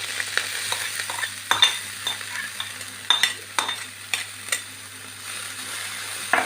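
Chopped spinach in a pan with coconut oil gives a soft steady sizzle, broken by scraping stirs and the occasional clink of a spoon against the pan. It is close, with no talking.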